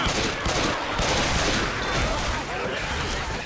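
Rapid bursts of gunfire fill a Left 4 Dead 2 zombie shootout, dense and continuous volleys layered over one another, loud and close, with shouted voices mixed in.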